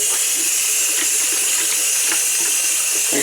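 Hot water poured steadily into a sink drain, a loud continuous splashing gush with a hissing, bubbly texture, close and unbroken, with no voices.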